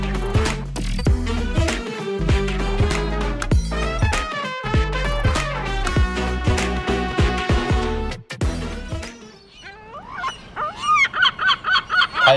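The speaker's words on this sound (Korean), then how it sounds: "갈매기 울음소리와" Loud, rhythmic honking cries repeat in quick succession at a harbor in Namhae, South Korea, then give way to a fast run of shrill seagull calls near the end.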